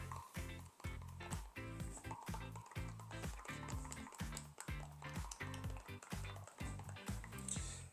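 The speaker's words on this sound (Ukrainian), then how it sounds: "Додаємо каталізатор співвідношення каталізатора і смоли 1 до 2 і ретельно вимішуємо." Epoxy resin and catalyst mixed at a two-to-one ratio for a quartz-filled floor are stirred with a steady rhythmic scraping and knocking, close and fairly quiet, with no talk.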